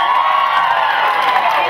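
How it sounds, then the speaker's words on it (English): An audience at a dance show at The Plaza Atlanta cheers and whoops for the dancers, a loud continuous crowd roar with children's shouts. "Cheer for them again."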